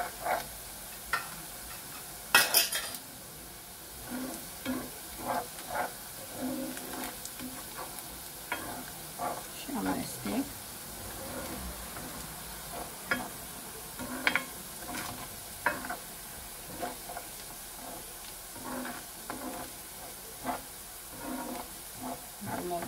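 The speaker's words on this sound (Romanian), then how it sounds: "Între timp ceapa a început să călească." Onion frying in a pan on a home stove, a quiet steady sizzle broken by scraping stir strokes and light clinks at an irregular rhythm, close and fairly faint.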